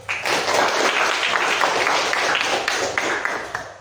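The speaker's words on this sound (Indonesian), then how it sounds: "Tepuk tangan dulu." A school class claps together, dense sustained applause close by for a few seconds, loud and steady, then tapering slightly toward the end.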